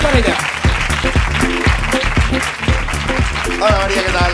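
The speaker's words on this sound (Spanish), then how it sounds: "Aquí està, aplaudiment per ella." Studio audience clapping runs throughout for a guest on a Catalan-language show, mixed with a loud rhythmic music beat that pulses under the applause.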